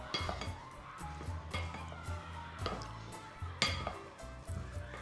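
Apple slices being stirred in a bowl, giving soft irregular clinks and scrapes of a utensil against the dish at close range, quiet throughout with no talking.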